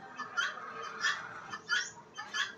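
Chickens cluck close by in a short series of four or five raised, nasal calls at an even pace over a quiet background.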